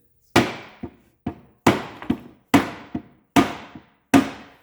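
Repeated hard strikes of a rubber mallet on the metal lip of a 2006 Subaru Outback transmission pan, about six evenly spaced blows, each followed by a smaller rebound tap, close and loud.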